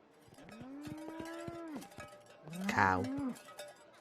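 Cows moo in the Ace Attorney: Spirit of Justice video game, two long, loud lowing calls with a clanking cowbell rhythm underneath, close and prominent.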